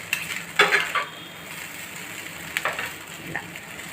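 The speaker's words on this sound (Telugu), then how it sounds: "ఇలాగే కాసేపు వేపుకోవాలి" Masala-coated noodles for homemade chicken noodles are stir-fried in a pan, with two short bursts of scraping and tossing over a soft, steady background sizzle.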